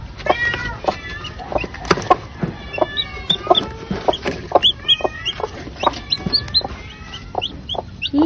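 Chicks peep in rapid, high-pitched bursts close by, overlapping with clucking fowl in a busy, continuous chorus.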